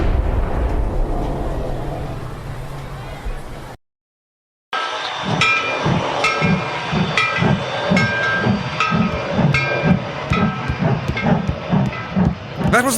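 A steam train vents a loud broadband hiss, then after a brief silence it chuffs in a steady rhythm, with metallic clanks and ringing tones over the beat, heard close by.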